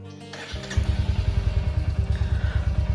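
A Royal Enfield Hunter 350 motorcycle engine cranks and catches after a brief starter whir, then settles into a loud, close, steady thumping single-cylinder idle with a regular pulsing beat.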